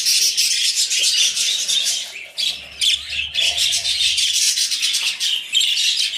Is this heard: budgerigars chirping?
yes